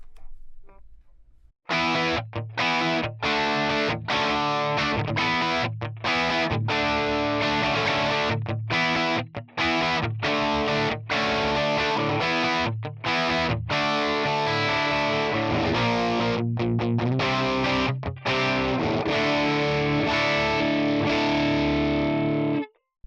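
Electric guitar through a Tonex One Watson Dominator amp model on a crunch setting with reverb off, played loud and dry in a continuous run of strummed chords and riffs with short choppy breaks.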